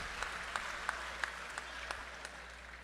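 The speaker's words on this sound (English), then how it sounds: "Let's give them a round of applause" Applause from a town hall meeting audience at Naparima College, steady and moderately distant, with a few sharper claps standing out, and no talk over it.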